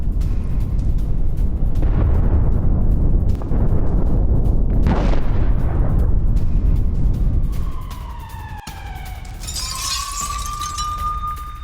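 Hezbollah rocket attack on Haifa: heavy, rumbling booms and crackling blasts roll across the opening seconds, then fade into a wailing siren-like tone and distant noise.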